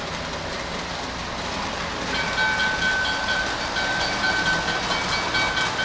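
A small train rumbles steadily along its track nearby, a continuous whirring clatter with a faint high whine joining partway through.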